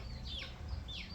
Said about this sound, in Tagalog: Happy yung mga manok.